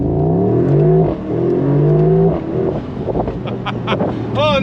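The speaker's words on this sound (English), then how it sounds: "Oh, and that blow-off sound" A 2024 Mercedes SL63 AMG engine revs loud and close with rising and falling harmonic surges, then a quick chirping blow-off whoosh near the end.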